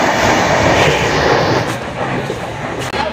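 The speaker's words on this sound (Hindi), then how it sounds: "ये हमारी ट्रेन है, अब हम बैठ चुके ट्रेन में सारे।" A passenger train runs along the track, heard from inside an air-conditioned coach: a loud, steady rumble with rattling wheel noise and faint clatter, continuous for a few seconds.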